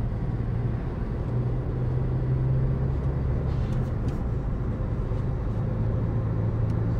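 A Cupra Formentor 1.5 TSI with manual gearbox accelerating, its engine a steady, loud low drone with a sustained hum throughout, heard from inside the car with no talk.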